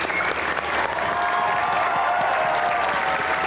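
A studio audience on a comedy talk show applauds steadily to welcome a guest. The full, continuous clapping comes with faint cheering mixed in and holds at an even level.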